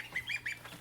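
Several ducks and a pair of Toulouse geese in an indoor brooder give a few short, bright calls in quick succession, fairly close and over a soft constant background hiss.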